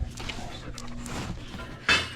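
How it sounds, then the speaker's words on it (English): Dogs moving around nearby during a DIY scrap-metal winch hitch-mount build, with a low steady hum beneath, faint scuffling and whimper-like noises, and a brief sharp yelp or bark near the end. "Crazy dogs"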